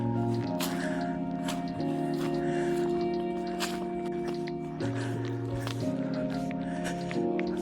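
Boots squelch through boggy ground on a Lake District walk near Hodge Close quarry, producing repeated wet squishing steps and drips close by over a steady low droning hum.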